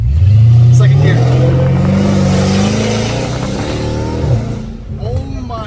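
A Dodge Challenger Hellcat Redeye with catless exhaust pipes roars loudly and throatily as the engine climbs through second gear, pitch rising steadily before easing off, with voices briefly heard over it.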